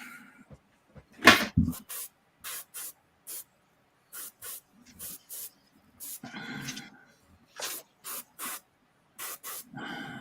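A spray can nozzle gives repeated short hissing spurts, a dozen or so bursts of varying length separated by silences, close and fairly loud, with a few faint knocks between them.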